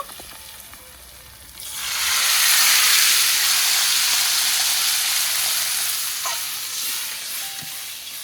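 Water poured into spice paste frying in a pan for a rohu fish and lentil fritter curry sets off a sudden loud, sustained sizzle and steamy hiss that rises after a quiet start and slowly eases.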